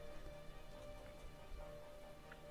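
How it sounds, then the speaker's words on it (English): Steady, faint downpour ambience from the video game Arknights, a continuous soft wash of rain with no talking. "The downpour continues."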